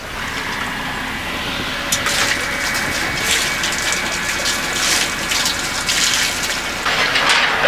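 Water rushes steadily through the riffles of a sluice box, a continuous loud gushing churn with turbulent splashing that swells slightly in the second half, with no voices.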